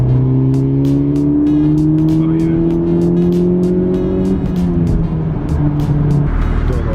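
A Honda Civic Type R engine pulls steadily in gear, its tone climbing smoothly and loudly for several seconds before dropping and settling, with rhythmic ticking over the drone.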